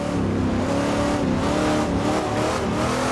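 A Mustang Boss 302 Trans Am race car in Assetto Corsa roars with a loud, aggressive V8 engine note, held at high revs with shifting harmonics and small dips, close and continuous.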